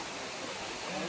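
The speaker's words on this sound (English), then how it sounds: "Nice little waterfall area." Amedzofe waterfall in eastern Ghana, a steady broadband rush of falling water that fills the short stretch evenly and stays soft and constant throughout.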